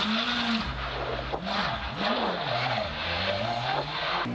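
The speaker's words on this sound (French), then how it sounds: "Nicolas Siamin part à la faute dès le premier virage du rallye et perd 25 secondes d'entrée de jeu." A rally car on gravel runs wide at the first corner, its engine note rising and falling in loud, continuous revving swells with a rough, gritty wash of gravel and tire noise beneath, heard close throughout.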